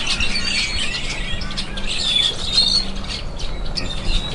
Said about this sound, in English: These birds going crazy.